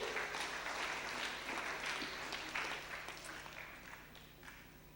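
Steady, dense applause from a church congregation at a Sunday School Sunday Kikuyu service at ACK St. Mark's Church Mukui, continuous clapping throughout that tapers off slightly toward the end.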